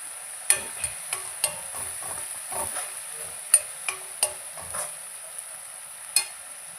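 Tomatoes with salt cook in a pan for chicken curry under a steady, close sizzle, broken by sharp spatula taps and scrapes at irregular intervals.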